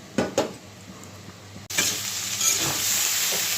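Tomatoes and green chilies drop into a hot frying pan with lentils and turmeric, setting off a sudden, loud, continuous sizzle that holds steady after a few soft stirring knocks.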